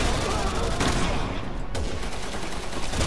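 Dense gunfire in the Resident Evil 6 game, with sniper and enemy shots crackling in a steady fusillade, loud and continuous for about three seconds.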